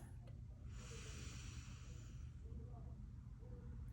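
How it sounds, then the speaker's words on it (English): A sharp airy inhale through the left nostril during alternate-nostril breath-work, one sustained hiss of about a second and a half, faint and close over a low steady background rumble. "Inhale, left."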